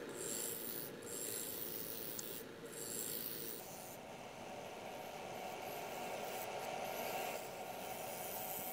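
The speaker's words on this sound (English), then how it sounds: "still with the bowl gouge and making the bottom flat and starting also to round over the corner a bit" Bowl gouge cutting a resin and wood bowl spinning on a lathe, flattening the bottom; a steady close scraping, rasping hiss with a continuous rough texture, no speech.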